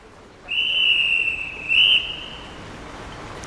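Swimming race start whistle, two shrill electronic blasts, a long tone followed by a shorter louder one, clear and fairly near over quiet pool ambience.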